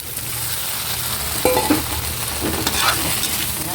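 A pan of sautéed corn and sweet potato with onion being stirred, a steady sizzle of frying under a few scraping spoon strokes, close and continuous with no talk.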